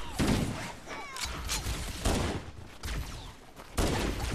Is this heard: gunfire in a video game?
yes